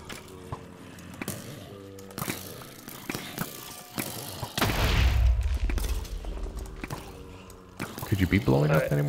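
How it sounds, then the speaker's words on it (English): Muffled explosions boom in a modded Minecraft game, with a heavy blast about halfway through and another near the end. Scattered game sounds surround them, and people talk over the mix. "I hear just oodles of explosions going off."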